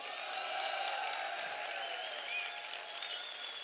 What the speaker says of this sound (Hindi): इसके लिए आप लोगों को तालियां बजानी चाहिए